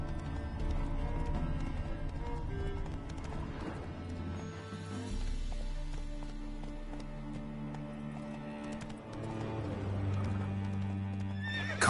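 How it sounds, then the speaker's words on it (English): A horse neighs and whinnies in the video game The Witcher 3, with hooves clip-clopping and game music underneath, fairly close and continuous. "Calm down, Roach. Just bees."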